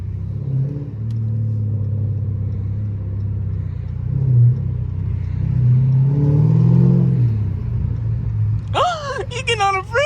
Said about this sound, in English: a scat just peeled out ahead of us